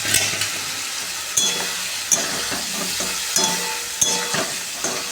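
Potatoes frying in spiced oil in a home kitchen pan, a steady close sizzle with sharp spatula scrapes and stirring clicks at irregular intervals.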